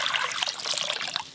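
Water trickles and pours in a home kitchen while fritters are being made, a light continuous splashing stream heard alone for a moment.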